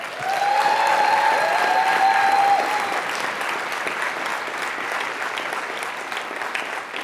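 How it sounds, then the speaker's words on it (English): A room of nurses at a union meeting breaks into sustained applause, loud and full at first, then easing slightly but carrying on steadily, with a faint tonal whine riding over the early clapping. "Those claps are binding."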